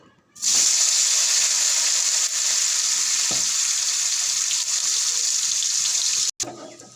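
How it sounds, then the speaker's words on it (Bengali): Paneer cubes frying in hot oil set off a sudden loud, steady hiss of sizzling that holds throughout, briefly cutting off near the end before softer crackling resumes. "এবার আমি একটু পনিরগুলো তেলে একটু ভেজে নেব"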